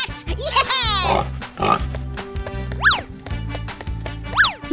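Cartoonish pig oinks and squeals from a 3D animal slide video game, repeated in short bursts over bouncy game music with sliding whistle-like effects.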